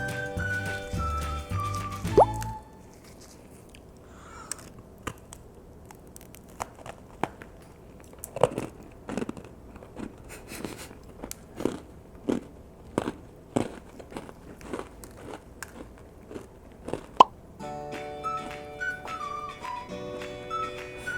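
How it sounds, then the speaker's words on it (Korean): A giant homemade chocolate Mitsu biscuit with white chocolate chips is bitten and chewed, giving a series of sharp crisp crunches at irregular intervals, close and fairly loud, with quiet music at the start and end. "이제 이 대왕 미츠를 먹어보겠습니다."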